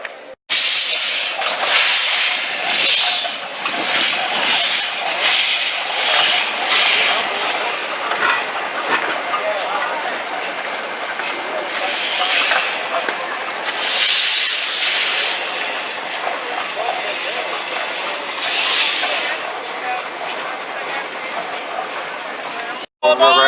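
Polar Express steam locomotive at the Steam Railroading Institute, giving a long steady hiss of steam with broadband rushing bursts and faint rail clatter, close and loud throughout, with voices murmuring underneath.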